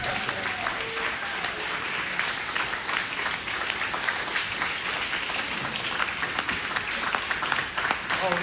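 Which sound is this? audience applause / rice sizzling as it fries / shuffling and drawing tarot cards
audience applause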